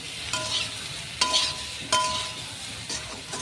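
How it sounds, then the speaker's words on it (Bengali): Potatoes and taro stems sautéed in a pan, a soft steady sizzle with a few scraping stirs and light clinks of a utensil against the pan. "ভালো করে একটু কষিয়ে নেব।"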